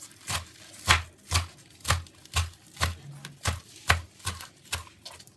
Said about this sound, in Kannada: ಈ ಥರ ಚಿಕ್ಕದಾಗಿ ಸೊಪ್ಪನ್ನ ಕಟ್ ಮಾಡ್ಕೊಂಡು ಅದಕ್ಕೆ ಹಾಕ್ಕೋಬೇಕು.